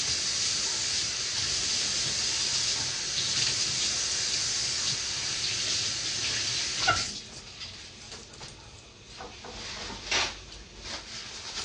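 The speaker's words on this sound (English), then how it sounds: "I'm gonna wash my hands here." Hands washed under a running kitchen tap during beef stew preparation, a steady hiss of flowing water that thins out partway through, with a few clinks and splashes, no talking.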